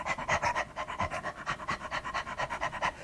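A voice imitates a dog panting: quick, rhythmic breathy huffs repeated steadily, close and fairly quiet.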